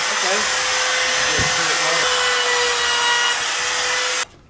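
Electric sander roughing up a kitchen surface so paint will adhere, a loud, continuous whirring buzz that runs steadily for about four seconds, then cuts off abruptly.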